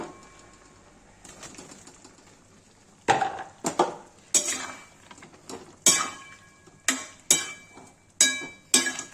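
Cauliflower goes into a pan of Kashmiri-style white gravy, heard as a series of sharp, close clatters and scrapes of a spoon against the pan, spaced a second or so apart, with no talking.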